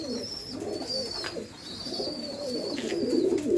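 A pigeon coos in low, soft, repeated rolling phrases near a young squab, fairly faint against steady background noise, with thin chirps drifting in.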